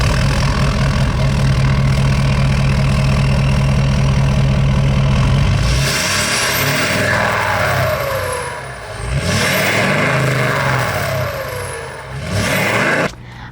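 A Ford F-250 Super Duty with a tuned 6.7 Power Stroke diesel, aftermarket air intake and 4-inch exhaust idles loud and close with a deep, steady rumble for about six seconds, then drops to quieter running with rising and falling whistles.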